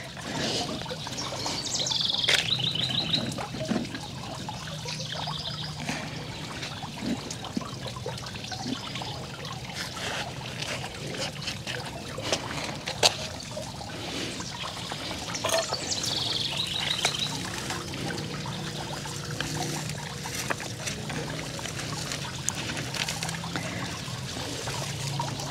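Potting soil pours and trickles steadily into deep garden urns set beside a fountain, a soft continuous rustle with occasional birdsong in the background and no talking.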